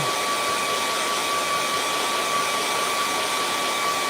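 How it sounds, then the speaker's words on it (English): A hair dryer blows steadily and loudly throughout, drying a freshly painted area of a rocky lake scene on canvas, with a constant broadband whoosh and a faint motor whine, no voices. "So I'm just drying the area now."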